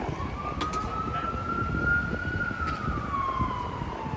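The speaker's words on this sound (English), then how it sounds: "Oh, I hear another fire truck." A fire truck siren wails past on a New York City street in the East Village, its tone sliding up and then slowly falling as it carries clearly over steady low street rumble, with no talking.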